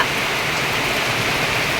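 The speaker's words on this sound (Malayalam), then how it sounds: "ഭയങ്കര കാറ്റും മഴയുമാണ് കേട്ടോ അടിപൊളി മഴ" Dense, loud rain pours down in strong wind in a constant roar, broad and unbroken, with no voices over it.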